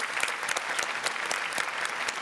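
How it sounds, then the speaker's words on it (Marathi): A studio audience at a Marathi comedy show breaks into steady, dense applause, many hands clapping continuously and fairly close, with no talking over it. "त्यांच्यासाठी एकदा जोरदार टाळ्या."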